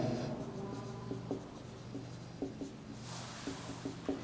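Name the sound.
writing the definition on a board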